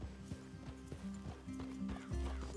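Horse hooves clip-clop steadily on the ground in the Red Dead Redemption 2 video game, with a brief whinny and a low rumbling ambience under the close, rhythmic footfalls.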